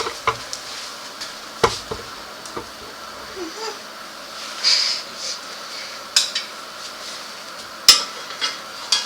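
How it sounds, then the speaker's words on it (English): After meat patties are cooked, a frying pan is drained with scattered clanks and knocks of cookware over a faint background sizzle, the sharp metallic hits coming irregularly and close by. "So I just drained the pan."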